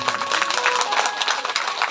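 An audience at a Devi Bhagavat katha religious gathering bursts into steady applause, many hands clapping together at moderate volume for a brief moment.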